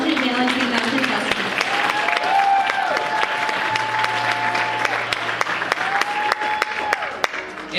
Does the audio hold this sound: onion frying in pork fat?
no